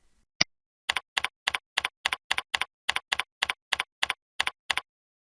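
Computer keyboard keys tapped in a quick run of about sixteen crisp clicks after a single mouse click, close and clear in a quiet room with no talking.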